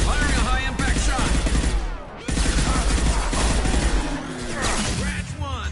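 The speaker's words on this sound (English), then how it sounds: "Firing a high-impact shot!" Heavy sci-fi weapons fire during a Mass Effect 2 firefight, loud blasts and crackling bursts with a brief sharp cutoff midway, layered with in-game voices shouting over the combat.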